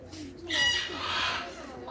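A talking bird at a panda park squawks and calls in harsh, shrill bursts, fairly close, with muffled voices and background noise underneath.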